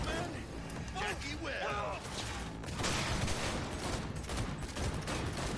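Video game gunfire from Cyberpunk 2077, a burst of shots with crashing impacts and busy game effects running throughout, mixed with a man's speech over the action.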